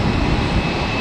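An aircraft's jet engines roar at takeoff power at Tampa airport, a loud, broad and steady rumble with no break and no voices.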